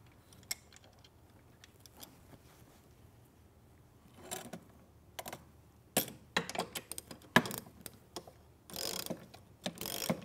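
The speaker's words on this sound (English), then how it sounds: "using my Allen wrench and my socket to tighten the first bolt assembly" A socket wrench ratchets in short bursts of rapid clicking while a bolt assembly on wooden fence posts is tightened, close and crisp, with quiet pauses between strokes.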